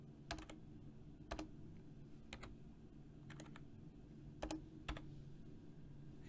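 Fingers tap at a computer keyboard in a quiet room, giving a handful of sharp clicks in small bursts with pauses between, soft and close over a low background hum.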